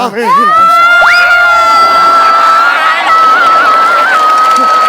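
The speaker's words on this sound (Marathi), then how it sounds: "सगळे लोक आरडाओरडा करायला लागलेत" A theatre audience shouting, whooping and cheering loudly and continuously, a dense crowd roar with high sustained yells on top.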